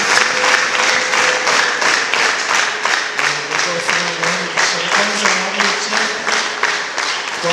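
A church congregation applauds together in a sustained, even burst of clapping that fills the room, with a voice faintly audible underneath.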